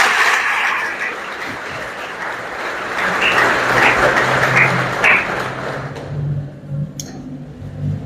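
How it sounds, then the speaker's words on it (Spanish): An audience at a Catholic catechesis talk gives loud, sustained applause, a dense wash of many hands clapping that holds for several seconds before thinning and trailing off. "Le vamos a dar un aplauso fuerte a Papa Francisco."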